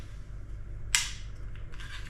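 A pistol's two-sided, ambidextrous magazine release button is pressed down, giving one sharp, close click amid quiet room noise, followed by faint handling rustle.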